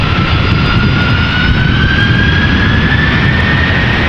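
Delta Air Lines Airbus A330-300, 18 years old, jet engines at Amsterdam Schiphol: a loud, constant roar with a steady high whine running through it, close and uninterrupted.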